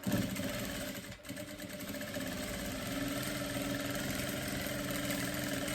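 A sewing machine running steadily while it stitches a straight seam around a fabric piece, a continuous mechanical whir with a rapid repeating rhythm, close by, after a short pause near the start, with no voices.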